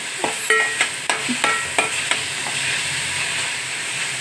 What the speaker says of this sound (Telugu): ఉల్లిపాయ ముక్కలు కట్ చేసి పచ్చిమిరపకాయలు కట్ చేసి ఆయిల్ వేసి వేస్తున్నాను